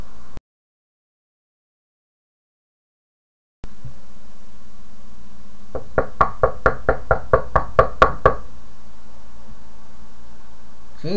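Knocking on a door: after a brief silence, a run of about a dozen sharp, evenly spaced raps sounds close and loud, steady in rhythm, then stops.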